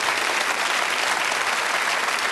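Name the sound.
studio audience applause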